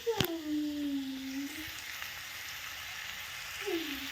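Food sautéed in a pan gives a soft, steady sizzle in the background, with a sharp clink at the start and a voice speaking over part of it.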